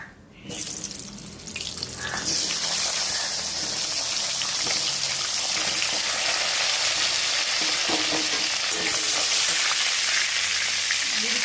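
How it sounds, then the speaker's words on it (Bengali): Cauliflower pieces fry in hot oil left over from crisping fish, a steady, loud sizzle and hiss that runs continuously with faint stirring clatter and no talk. "এরপরে ওই তেলে ফুলকপিগুলো ভেজে নেব।"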